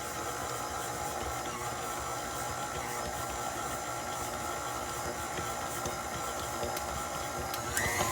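A stand mixer churns homemade bread dough in a steady, dense mechanical whir with a constant hum. The sound stays loud and unbroken for the whole stretch, with no talk over it.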